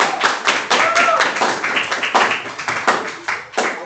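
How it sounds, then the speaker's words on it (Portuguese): A group claps hands together in brisk, uneven applause, close by and continuous for several seconds, with voices mixed in beneath the clapping. "Salva de palmas."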